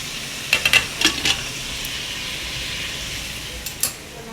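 Chicken nihari with potatoes frying in a pot, with a steady sizzle under several scraping, clinking stirs of a spoon against the pan, close up and without speech.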